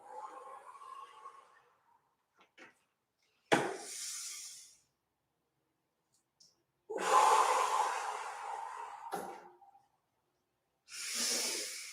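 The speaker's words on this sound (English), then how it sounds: "Inhale. Exhale." Deep breaths during a Pilates exercise on an EXO chair, slow inhales and exhales that come close and loud in separate bursts with quiet gaps between them and no talk over them.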